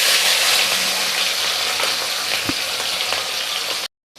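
Rohu fish frying in hot oil in a pan, a steady loud sizzle running throughout with a brief spatter pop midway, then a sudden cut to silence at the end.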